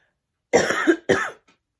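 Two harsh coughs in close succession, the first longer and fuller, the second shorter, loud and near with silence around them.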